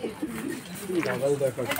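Madras pigeons at a fancier's loft in Kolkata coo in soft, low, repeated throaty notes close by, with a person talking over them.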